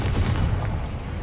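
A Confringo spell blast from Hogwarts Legacy, cast during a fight, comes through as a dense, continuous low rumbling boom with a brief crackle near the start, loud and close throughout the short moment.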